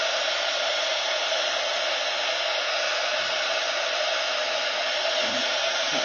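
A hair dryer blows steadily and loudly on homemade alcohol ink for a craft project, a constant close whoosh with no pauses or talk.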